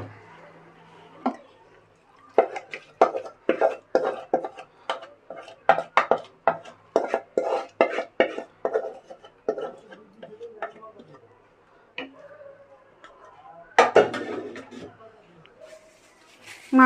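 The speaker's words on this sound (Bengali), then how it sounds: "তারপর বলক আসলে কমিয়ে এখন মাংসগুলো মিশিয়ে দিচ্ছি এর সাথে।" Chicken pieces being mixed into biryani in a pot, a run of close, sharp spoon-against-metal scrapes and clinks in an uneven rhythm, with a louder clatter near the end and faint background noise.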